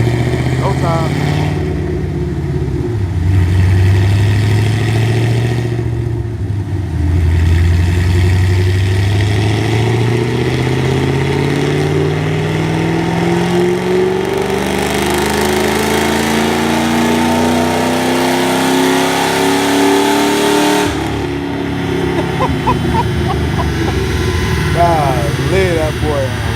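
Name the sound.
Ford Mustang GT on E85 tune revving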